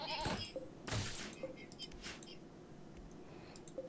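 Goats bleat in short, faint cries scattered through the scene, mixed with soft rustling and quiet voices nearby.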